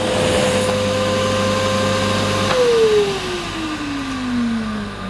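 A Karcher VC 6 vacuum cleaner runs close and loud with a steady motor hum; partway through, the pitch drops in a long slide as the nozzle is pushed hard against the floor.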